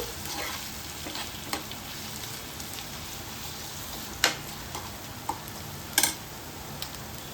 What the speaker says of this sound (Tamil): இதையும் நல்லா வதக்கிக்கோங்க.